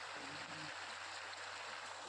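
A steady rush of well water flowing from an electric pump, with the motor's constant mechanical hum beneath it, continuous and even throughout, in a village.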